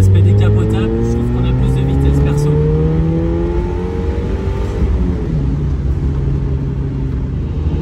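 A Mazda MX-5 NA convertible at speed, its engine droning loud and close with gear changes and pitch sweeps as it pulls along the road, with wind noise throughout.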